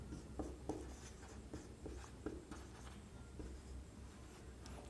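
A teacher writes on a board during an algebra lesson, making a series of short scratchy strokes at an uneven pace, faint and close, with no talk over them.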